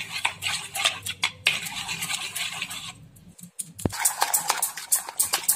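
A spoon beats egg, sugar and oil together in a bowl, producing rapid, irregular close scraping and clinking strokes with a brief pause midway, alone without talk.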